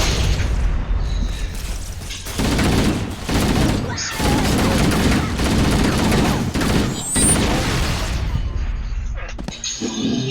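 Booming bursts of explosions and rapid gunfire from a plasma grenade battle in the video game Halo: Combat Evolved, loud, close and repeated in waves with short lulls between.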